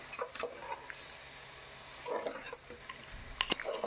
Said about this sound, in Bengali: ভালো করে এবার এটাকে সঙ্গে চালের সাথে ফ্রাই করে নিচ্ছি চিকেনটা।